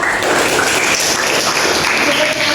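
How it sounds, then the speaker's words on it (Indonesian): A classroom of students clapping for a classmate after a correct answer in a maths lesson, dense and loud, steady from start to finish. "Tepuk tangan untuk Miftah."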